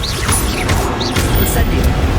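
A wizard's disarming spell cast in a Hogwarts Legacy duel, a bright whooshing swirl of magic over a steady low rumble of combat effects, with a short burst near the middle; a voice shouts the spell's name.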